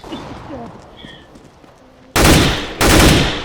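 Two loud bursts of rapid gunfire in Counter-Strike: Global Offensive crash in after a quieter stretch of faint game sounds, each burst sharp and close.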